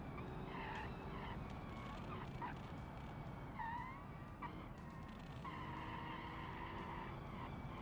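A car in the BeamNG racing game brakes hard and skids, its tires squealing in several drawn-out streaks over a constant engine and road roar, heard close and fairly quiet throughout.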